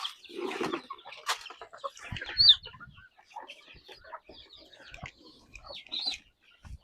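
Native country chickens at feeding time on a poultry farm, a hen's soft clucks mixed with chicks' high peeps and chirps, close and fairly quiet, with scattered scratching and pecking sounds.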